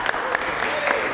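Audience applause at an August real estate investor meetup, a brief burst of crowd clapping, fairly loud and close, with a voice talking over it.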